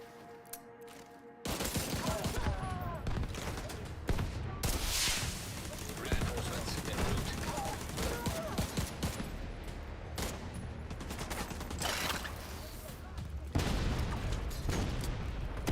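Sustained gunfire in The Division 2 starts abruptly after a quiet opening, then keeps going as loud, dense fusillades and rapid automatic bursts with occasional booms, over busy game ambience.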